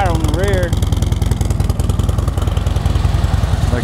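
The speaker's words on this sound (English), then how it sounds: "Cranks right up, no engine noise or smoke, none of that business." Harley-Davidson Street Glide FLHX idling with its factory exhaust, a steady low, even pulse running close and loud throughout, with a brief whistle-like tone near the start.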